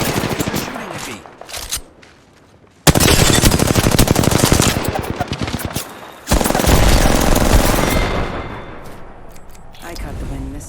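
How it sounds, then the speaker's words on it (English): Enemy gunfire in the Apex Legends video game erupts in loud, rapid automatic bursts, two long sustained volleys with a quieter gap between and softer shots trailing off at the end, under occasional talk. "They're shooting at me."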